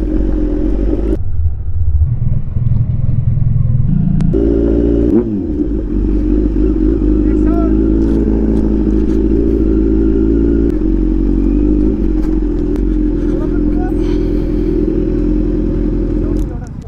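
Super bike motorcycles rev their engines loudly and close by, a throaty rumbling roar that swells and holds with some clatter, while people can be heard talking over the noise.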